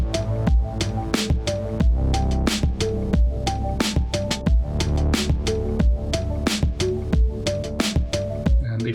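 Dense electronic track from Elektron Digitakt, Digitone and Analog Four hardware run through an FL Studio mastering chain: steady punchy kick pulse, bright hi-hat ticks and sustained tonal synth lines, loud and continuous throughout.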